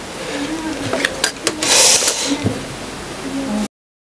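A SUISEI S955 KM sewing machine fitted with a gathering presser foot stitches in short, loud mechanical bursts of whirring and clacking, starting and stopping, then cutting off abruptly.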